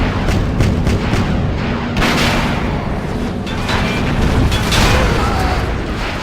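Heavy explosions and artillery blasts rumble in a Battlefield Iraq battle against a Bradley tank, with repeated loud booms over continuous gunfire and thick battle noise.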